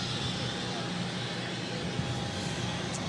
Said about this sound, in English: This is Delta Airlines 2357 taking off to Washington Reagan National on the A319.